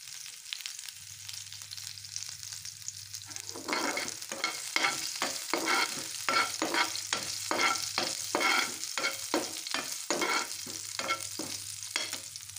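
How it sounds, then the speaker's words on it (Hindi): Garlic for a tomato chutney with fennel fries in a pan over medium-low flame, a soft sizzle at first, then rhythmic stirring strokes scrape and tap the pan over and over, no talking. "ये देखिए लहसुन हल्का हल्का जो है ब्राउन होने लगा है, और इसको आप मीडियम टू लो फ्लेम पे पकाएं"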